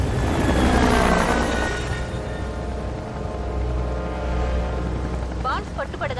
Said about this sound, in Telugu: హెలికాప్టర్ స్టార్ట్ చేయమను.